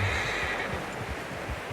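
A horse whinnies in the video game Red Dead Redemption 2, a short nasal neigh at the start followed by soft rhythmic hoof and tack sounds, fairly close, with no speech.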